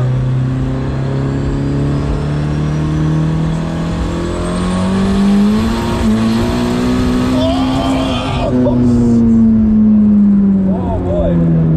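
A turbocharged Honda Civic engine running 30 psi boost roars steadily as it accelerates hard, pitch climbing then easing, with a whine over the drone and voices briefly under it.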